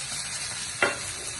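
Finely chopped onions with cumin and asafoetida sizzle steadily in hot oil over low heat, with a brief louder crackle and stir partway through.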